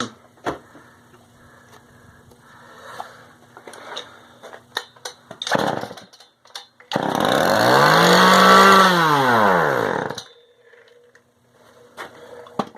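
A Homelite 410 chainsaw is pull-started: a few rattling pulls and clunks, then the engine catches and sputters loudly for about three seconds, its pitch rising and falling, before dying back to quiet handling noises.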